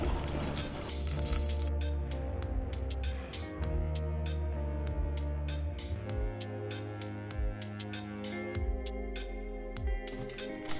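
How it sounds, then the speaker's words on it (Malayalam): Mustard seeds, fenugreek and dried chillies crackle and pop in hot coconut oil, a steady close sizzle broken by many sharp, rapid bursts without speech. "കാൽ ടീസ്പൂൺ കടുക് കാൽ ടീസ്പൂൺ ഉലുവ രണ്ട് വറ്റൽമുളക് എന്നിവ ചേർത്ത് പൊട്ടിക്കാം"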